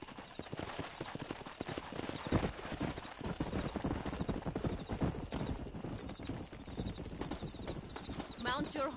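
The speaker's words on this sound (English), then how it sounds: "Mount your horse and get after them." Horse hooves galloping in the video game Red Dead Redemption, a loud, rapid, continuous clip-clop close by with a brief whinny, under game dialogue and background action.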